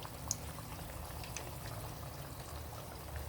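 Chicken pakoras frying in oil, a quiet continuous bubbling sizzle that holds steady, with one small tick near the start.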